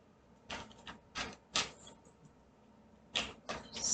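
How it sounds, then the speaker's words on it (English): Tarot cards from the Crystal Visions deck shuffled by hand in short, quiet riffling bursts, about five separate flurries with pauses between, soft and close against a faint room hum. "Shuffle them up here."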